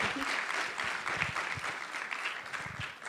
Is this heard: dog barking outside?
no